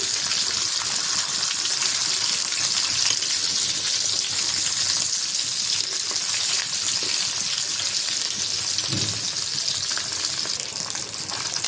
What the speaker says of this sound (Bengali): বাকি মাছটাও ভেজে নেব এখন